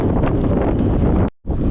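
Strong wind buffeting an outdoor microphone on a breezy hilltop, a loud continuous low roar that cuts out abruptly for a brief moment near the end before surging back.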